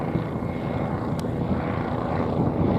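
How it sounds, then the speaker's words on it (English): A helicopter passes over a beach near Santa Monica Pier, its steady rotor and engine rumble filling the whole stretch, loud and close over light wind and surf noise. "Here comes a helicopter, right on cue."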